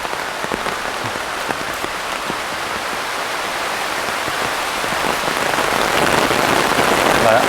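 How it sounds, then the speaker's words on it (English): Heavy rain pours onto a tropical forest canopy at MacRitchie Reservoir, a dense, loud, unbroken hiss of drops that swells slightly toward the end, with scattered sharper patters. "I do think the canopy is protecting us from some of the worst of the rain."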